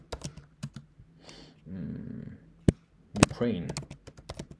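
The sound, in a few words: typing on a computer keyboard into an Excel file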